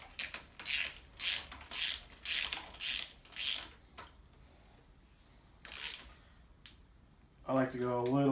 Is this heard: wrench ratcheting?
yes